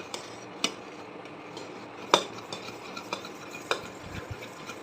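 Mango mixture with melting sugar being stirred in a pot, a faint soft bubbling bed broken by occasional sharp clinks of a spoon against metal.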